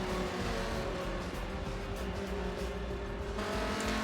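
Skoda race car in Forza Motorsport 7 at Circuit of the Americas, steady engine drone with tyre noise as cars brake hard, a continuous mid-loud whine from the pack with no talking.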